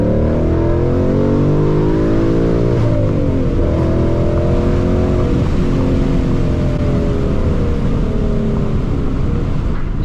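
A Ford Mustang GT engine revs in a light warm-up pull, a loud, continuous low roar with rising and falling harmonics that climb and settle across the pass, sustained without pause.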